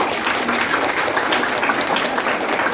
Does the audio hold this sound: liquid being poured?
no